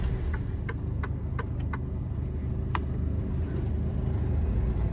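A truck, a KamAZ being pulled free, grinds through deep snow with a steady low engine drone, and brief higher clicks and squeaks cut through the rumble.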